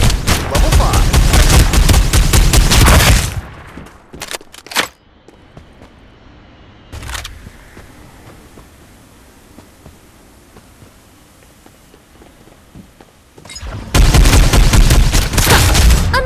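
Rapid video game gunfire rips out in two loud, dense bursts of shots and blasts, one at the start and one at the end. Between them is a quieter stretch with scattered single booms and faint background hum.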